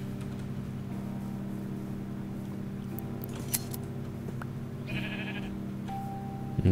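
Sheep in Minecraft give a couple of brief bleats over a steady droning background hum, with a short tone near the end; no talking.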